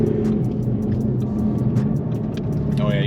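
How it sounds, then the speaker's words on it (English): A supercharged 2016 Ford Mustang GT with an MT82 manual gearbox, its engine rumbling steadily while the driveline loads and unloads, with rhythmic clunks and a rising whine near the end; people talk over it. "you can hear it load and unload the gear"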